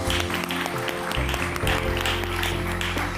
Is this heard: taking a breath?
no